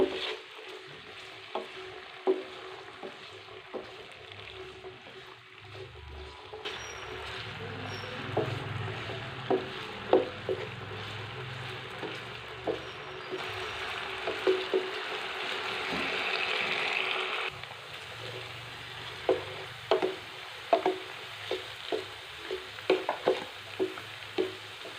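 Cubed potatoes frying in ghee in a pan for an Afghani egg, potato and tomato breakfast, giving a steady close sizzle broken by frequent sharp clinks and scrapes of stirring, with no talking.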